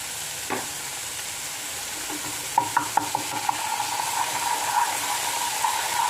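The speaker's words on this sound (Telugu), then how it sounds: "అల్లం పేస్ట్ వేస్తున్నాను." Ginger paste drops into a hot tempering of spices in a little oil and is stirred, a steady frying hiss broken by a quick run of spoon clinks against the pan, with a faint tone lingering underneath.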